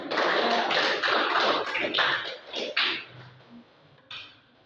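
Students in a classroom clap together in a dense, close burst of applause that lasts a few seconds, then thins into a few scattered claps and faint shuffling.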